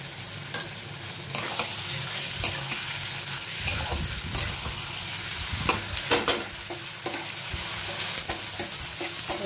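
Garlic and ginger fry in hot oil for Kabuli chicken pulao, a close steady sizzle broken by repeated scrapes and clinks of a spatula stirring the pan.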